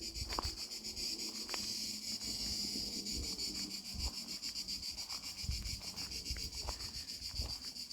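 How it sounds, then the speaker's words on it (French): Cicadas sing in a dense, steady high buzz beside the Lot river in southern France, continuous throughout, with faint wind rumble and soft low knocks beneath. "je vais me retrouver au milieu des cigales et surtout au bord du Lot"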